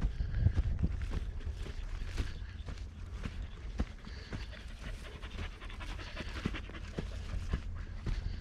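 A dog pants steadily and rapidly on an outdoor walk near Formby, close by, with scuffing footsteps and light rustling mixed in.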